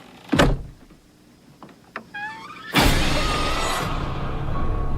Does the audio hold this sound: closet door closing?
yes